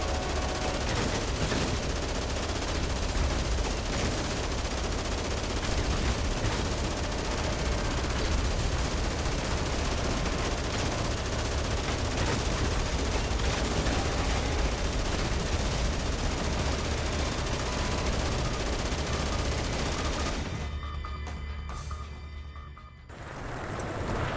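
A jeep-mounted machine gun in Dead Rising Deluxe Remaster fires a loud, continuous stream of rapid shots for about twenty seconds, then the barrage cuts out abruptly.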